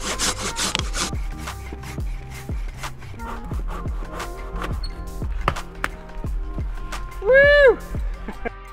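Hand saw cutting through a fallen tree across a trail, a steady rhythmic series of rasping back-and-forth strokes, close and loud, with a brief voice heard partway through.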